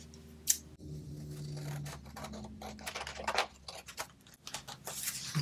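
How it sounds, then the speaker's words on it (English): Scissors cutting decorative paper by hand, heard as a close series of crisp snips and rustles in an irregular rhythm, with no voices. "I'm going to use this to cut out my decorative paper"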